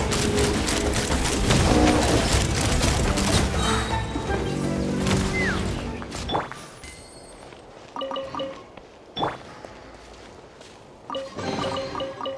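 A volley of cannon fire in a video game, a rapid dense barrage of loud booming shots for about six seconds, then scattered fainter impacts and splashes as the firing dies away.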